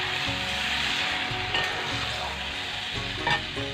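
Cabbage cooking in a pan in a village kitchen gives a soft, continuous sizzle up close, with a couple of brief stirring scrapes and no one speaking.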